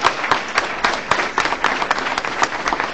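A school board meeting audience claps for award recipients, students and parents among them, with a lively round of many hands giving distinct sharp claps over a steady bed, fairly close and without speech.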